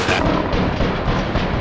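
Explosives detonate in APB: Reloaded, a dense, loud burst of booming blasts and crackling gunfire-like impacts rolling continuously with no talk.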